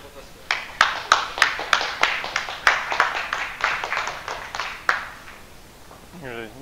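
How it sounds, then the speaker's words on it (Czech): An audience at a Linux video-editing workshop claps for a few seconds, a steady patter of hands that rises quickly and fades out, leaving a brief murmur at the end. "mohu ti potleskat."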